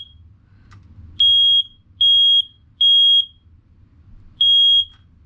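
A smoke alarm triggered with smoke spray during a home system test sounds four loud, piercing electronic beeps of about half a second each, in an uneven rhythm over quiet low room hum, with no talking.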